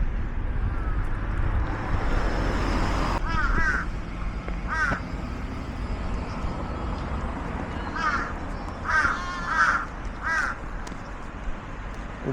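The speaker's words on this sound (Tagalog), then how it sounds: "Uwak siya" A crow caws repeatedly in Japan in short bursts of two or three harsh calls, set against steady wind and a low rumbling background.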